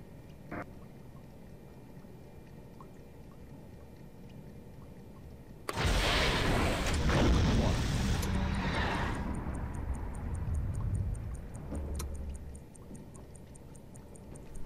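Torpedoes fired in a salvo during a convoy raid in the submarine game Silent Hunter 3: after a quiet stretch, a sudden loud roaring burst swells and rumbles for several seconds, then fades into a steady run of faint, fast ticking. No voices.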